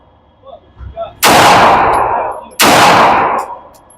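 RIA .45 ACP pistol firing at targets: two loud, sharp gunshots about a second and a half apart, each with a ringing decay, after a few faint softer sounds.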